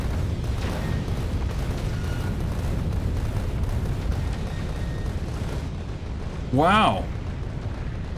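Steady game noise with a loud rumbling explosion that runs throughout as a wall is destroyed in Factorio, ending in a short burst near the end, while a person briefly exclaims.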